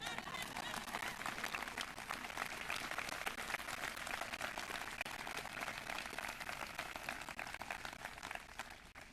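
Graduation audience applause at a high school ceremony, steady dense clapping from a large crowd sustained for about nine seconds at even, moderate loudness.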